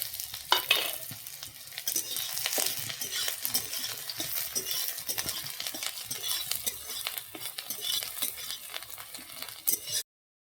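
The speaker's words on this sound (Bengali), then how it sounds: "দিয়ে দিচ্ছি আমি কেটে রাখা পেঁয়াজ।" Chopped onions go into hot oil in a kadai for an egg curry, giving a loud, close, continuous sizzle with steady stirring scrapes and a few light metallic clinks throughout, and no voices.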